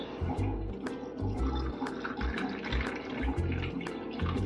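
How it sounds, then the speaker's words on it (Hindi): Water pours steadily over ice cubes into a glass of aam panna, a continuous close splashing stream with faint rhythmic thumps underneath. "इसके ऊपर हम डालेंगे पानी"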